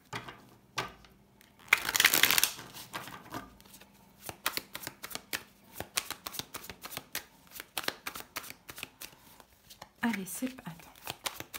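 Tarot cards are shuffled in a rapid, crisp riffle close up, with bursts of flicking cards repeating over several seconds while someone speaks briefly.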